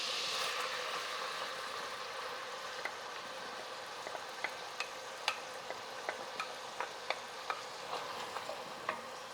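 Onion frying in a pot beside wagyu meat for a bolognese gives a steady close sizzle with scattered sharp pops and ticks, and no talking.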